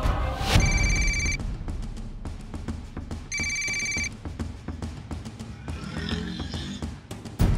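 A telephone rings in two bursts of bright electronic trilling, close and loud, with clattering background sounds between and after the rings.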